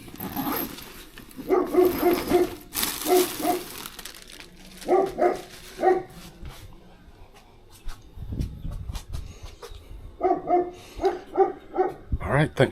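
A puppy yaps in short repeated bursts at a doorstep during an Uber Eats food delivery, loud and close, with quiet gaps between, while a person talks over and between the barks.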